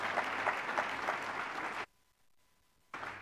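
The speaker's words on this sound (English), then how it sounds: "have a little round of applause for Christine for her faithful work" A church congregation gives a short round of applause, dense and even clapping that stops abruptly, followed by a moment of near silence before the clapping briefly resumes.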